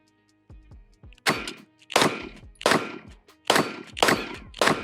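A Taurus TX22 .22LR pistol fires CCI Stinger rounds at a steel plate outdoors: five sharp, loud reports about a second apart, each with a quick metallic ring from the plate, preceded by softer handling clicks.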